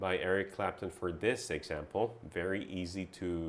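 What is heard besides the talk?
No everyday noises stand out.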